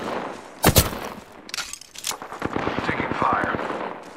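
Enemy gunfire in the video game Apex Legends: a loud opening shot, then a rapid automatic burst of evenly spaced shots rattling on, mixed with game effects.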